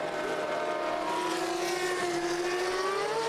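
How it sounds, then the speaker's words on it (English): Formula 3000 race cars at the Oschersleben circuit, a steady high engine whine with a rising pitch as the cars accelerate through the chicane, heard from a distance as one continuous drone. "They come through the Bilstein chicane for the first time, bouncing over the curbs onto the long back stadium straight, and a very comfortable lead indeed for Mass"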